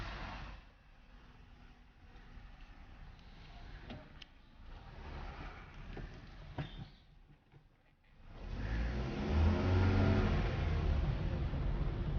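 A car engine murmurs quietly, then after a short lull swells into a loud, close rumble as the car accelerates and drives off.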